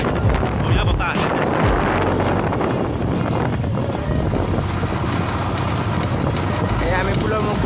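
Steady outdoor wind gusts at a village field roar continuously against the microphone as a loud, broad rumble throughout.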